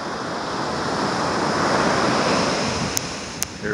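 Ocean surf rolling onto the beach at Duck on the Outer Banks, North Carolina, a steady broad wash of breaking waves with light wind noise and two brief clicks near the end.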